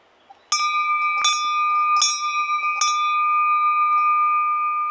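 A trailside bell on a hiking path at Oze, Gunma, rung about four times in steady succession, each clear metallic strike leaving a long sustained ringing tone that carries on alone after the last hit.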